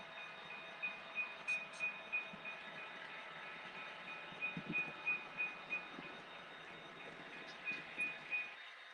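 A model train locomotive runs along a layout, its motor humming steadily with a thin high whine while rhythmic clicking thuds repeat from the wheels, soft and close.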